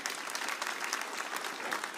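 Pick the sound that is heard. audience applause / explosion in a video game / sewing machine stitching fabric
audience applause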